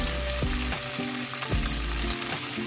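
Onions sautéing in hot oil in a pan for a pork and string bean adobo, with a steady broad sizzle and a few low thumps and clicks from stirring, close and loud throughout with nobody speaking.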